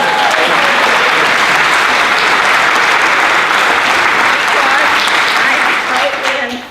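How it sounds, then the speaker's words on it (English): Loud, dense audience applause at an on-stage film festival conversation, continuous throughout and tapering slightly at the very end, with voices faintly mixed in. "You see how much applause I got?"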